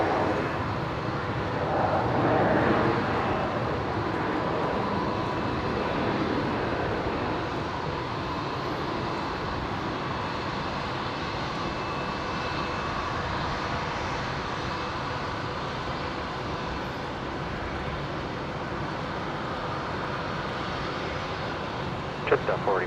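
A Jetstar airliner takes off from runway 01 right at Brisbane International, its engines a broad, steady roar that swells early and then holds as a constant distant rumble, with voices talking over it.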